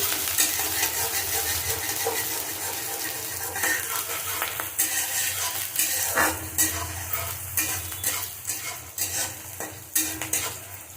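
Onion frying in hot oil sizzles continuously up close while a spoon stirs and scrapes the pan in irregular bursts.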